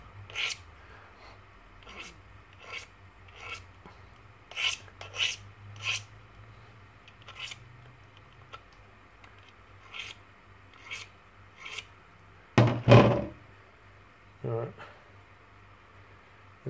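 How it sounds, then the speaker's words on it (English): File rasping burr off the edge of a steel broadhead being converted to a single bevel: short, regular scraping strokes, close and fairly quiet, followed by a few louder rubbing handling sounds. "Now just trying to remove all this burr material and make both sides as smooth as possible."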